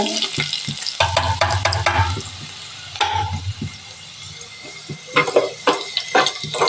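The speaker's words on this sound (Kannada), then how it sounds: "ಕೆಂಪಗಾಗಬೇಕು ರೀ ಬೆಳ್ಳುಳ್ಳಿ ಒಂದಿಟ್ಟು ಟೇಸ್ಟ್ ಬರ್ ಬೆಳ್ಳುಳ್ಳಿ ಕೆಂಪಗಾದ ಅಂದ್ರೆ ಟೇಸ್ಟ್ ಕೊಡ್ತೀನಿ" Finely chopped peeled garlic sizzles in hot oil in a pan, with bursts of crackling frying and stirring scrapes broken by brief quieter gaps, close and fairly loud.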